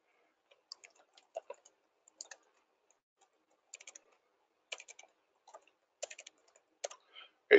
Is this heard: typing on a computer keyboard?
yes